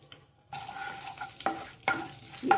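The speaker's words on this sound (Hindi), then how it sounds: "इसी ऑयल में हम तड़का लगाएंगे इसमें ये ज़ीरा डालेंगे हींग डाल देंगे" Hot oil crackles and sizzles steadily as cumin seeds and asafoetida are tempered in it, with a spoon scraping and stirring the pan in a few sharp bursts; no voices.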